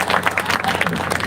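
Brief burst of audience clapping at a Marathi kirtan, lively and fairly close, with a voice speaking over it.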